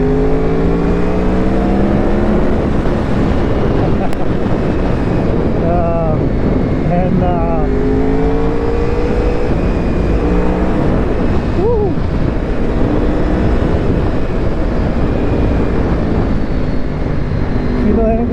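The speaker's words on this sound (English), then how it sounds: "The V4 engine on these bikes" Fifth-generation Honda VFR 800 V4 motorcycle engine under way, a loud continuous drone with rising and falling revs and gear changes, heavily buffeted by wind rush over the microphone.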